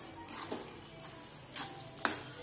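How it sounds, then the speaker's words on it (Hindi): Carrot halwa cooking in a pan gives a soft, quiet sizzle with a few brief stirring scrapes and one sharp clink of the spoon near the end, close up and without talk. "अब इसे आप लगभग 1 मिनट तक ऐसे ही चलाते रहिए।"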